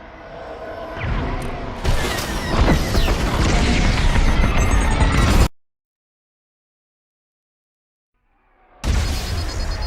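Missiles striking a ship in Star Wars Squadrons, a loud sustained roar of booms and crashing impacts that cuts abruptly to silence, then another loud burst returns near the end.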